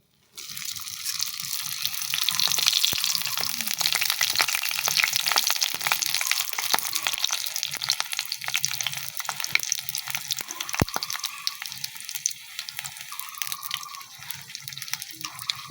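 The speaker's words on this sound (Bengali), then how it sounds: "তেলটা গরম হচ্ছে, তারপর এক এক করে লুচিগুলো ছেড়ে দেব।" Luchi fry in hot oil in a pan, giving a loud, sustained crackling sizzle with sharp spitting pops throughout, heard alone without talk.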